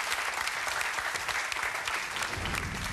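Studio audience applause on a game show, a steady dense burst of clapping at moderate level for a few seconds with no talk over it.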